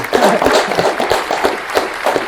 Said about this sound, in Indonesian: Tepuk tangan dulu dong buat Bang David.